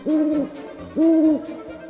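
Owl hooting in a bedtime story, two clear, sustained hoots evenly spaced, close and fairly loud against a quiet background.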